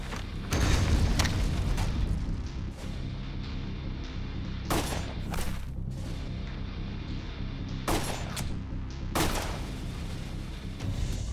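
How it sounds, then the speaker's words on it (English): A shotgun firing beanbag, double-aught and slug rounds at three targets, with several loud, sharp booms spaced seconds apart over a steady background rumble. "I'll fire beanbag, double-aught, and slug rounds at the 3 targets to compare the damage"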